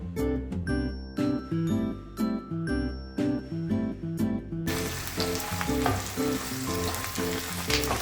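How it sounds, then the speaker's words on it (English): Onions fry on high flame in a pan and are stirred for a prawn coconut curry. Light sizzling and clinks of stirring build up, joined by a steady background tune. "So we need to fry the onions until it becomes translucent."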